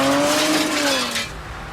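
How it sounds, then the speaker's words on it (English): Cars in a Paris street chase, rigged stunt vehicles driven by professionals, roar past with a loud engine whine and tire squeal that falls in pitch as the sound drops off. "the sequence unfolds on the chaotic streets of Paris with over 80 cars speeding, crashing, and careening through narrow roads and tunnels"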